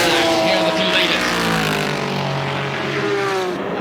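The number 9 race car powers past at Mid Ohio, a loud, close engine note that sweeps down in pitch as it passes, with a commentator talking over it.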